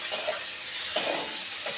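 Onion fries in a pan with a steady sizzle close by, broken by a few soft spatula stirs; nobody speaks.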